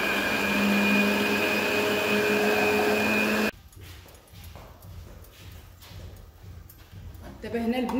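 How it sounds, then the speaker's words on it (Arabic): A Moulinex food processor grinds a whole wheat batter, its dense motor whine loud and steady for about three seconds before cutting off, leaving quieter kitchen handling noises. "غنعاود ثاني نطحنها في مولينيكس"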